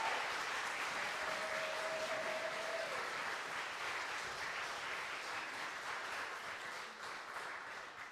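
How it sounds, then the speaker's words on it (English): An audience at a fundraiser concert for asylum seeker support services gives the Threshold Singers a sustained round of applause, a dense and even wash of many hands that fades slightly toward the end. "How about one more round of applause for the Threshold Singers?"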